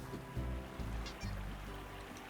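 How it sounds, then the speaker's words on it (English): Squeaky rubber-duck toys in Slime Rancher give a few short, faint honking squeaks over a low game ambience, about three squeaks in two seconds. "Squeaky squeaky duck."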